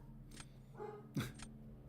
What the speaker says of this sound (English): Tell my dog to stop and she barks more.